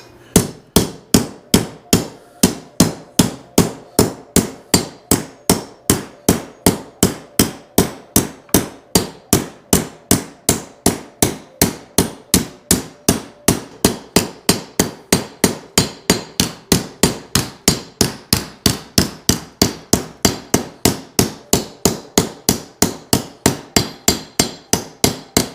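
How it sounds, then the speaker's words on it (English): A hammer strikes a copper cuff over and over to flatten its curled edges, a steady, fast run of sharp metallic blows that continues evenly throughout with no talking. "start hammering the edges so it can get flat"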